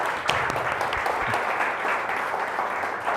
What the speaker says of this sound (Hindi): आइए जोरदार ताली से खुदावंद यीशु मसीह को धन्यवाद करें।